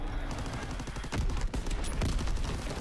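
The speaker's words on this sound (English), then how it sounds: "Incoming enemy artillery. Get to cover. Got some artillery coming." Artillery barrage in the shooter Call of Duty: WW2, heavy rumbling blasts and scattered crackling gunfire, with louder booming impacts landing about halfway through and near the end.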